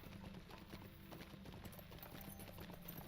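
A horse's hooves clip-clop in a steady, quick rhythm in the Lord of the Rings Online video game, moderately close and continuous, with a faint high whine running underneath.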